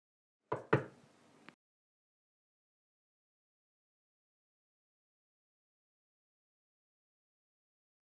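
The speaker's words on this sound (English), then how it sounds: "His father was knocking at one of the side doors, gently but with his fist." Knocking on a door with a fist, two firm thuds followed by a short softer rap, close and isolated against silence.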